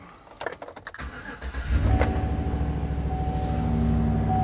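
A 2019 Chevy Express 3500 van's V6 engine cranks briefly and catches, then settles into a steady, deep idle rumble close by, with a faint jingle of keys just before.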